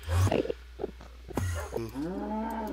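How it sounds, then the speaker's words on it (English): Cows moo in a video game, a few low drawn-out calls close by, the clearest one closing the stretch, mixed with scattered thumps and game noises. "Cows. There are a bunch of cows."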